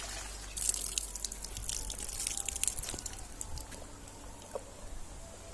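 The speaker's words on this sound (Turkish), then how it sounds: "Buradan da sular kaynıyor böyle. Akıyor gidiyor dereye doğru." Natural mineral spring water bubbling up inside a well-like surround and running off toward a stream outdoors, a soft continuous gurgle and trickle with faint drips, fairly quiet and with no one speaking.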